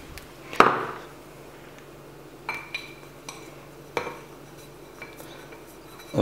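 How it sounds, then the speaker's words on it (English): Saltpeter and powdered sugar being mixed for rocket fuel, likely with a wooden tool: sparse scraping strokes and a few light knocks and clinks against a container, with one sharper hit near the start. "Now we can mix up the saltpeter with the powdered sugar."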